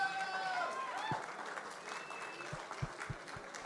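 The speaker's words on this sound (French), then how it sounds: "Applaudissez-les encore une fois," An audience at a festival awards ceremony gives a round of applause, a soft wash of many hands that thins out over a few seconds, with a few isolated claps and faint voices at the end.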